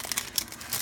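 The foil wrapper of a Topps baseball card pack crinkles and tears open up close, with quick, irregular rustling bursts over under a second.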